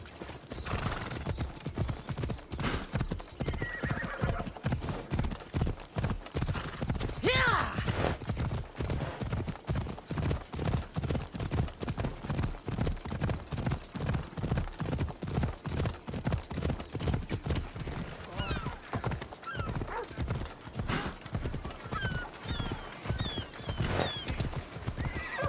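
A horse gallops in Assassin's Creed Odyssey, its rapid, rhythmic hoofbeats pounding steadily and loudly throughout, with a whinny breaking in near the start and faint calls or effects scattered over the run.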